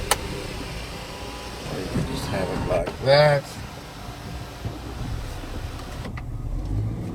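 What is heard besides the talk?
Haval H9 electric sunroof tilting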